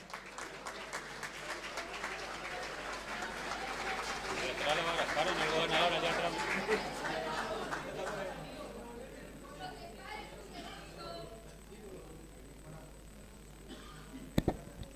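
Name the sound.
audience applause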